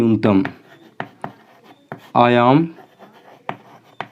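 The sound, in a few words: writing on a board while explaining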